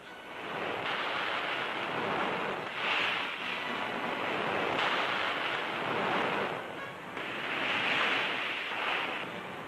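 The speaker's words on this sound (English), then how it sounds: "It takes a hardy athlete to ride these waves." Ocean surf breaks on an Australian beach, a continuous loud roar of crashing waves with rising and falling swells, close and steady throughout, with no talk.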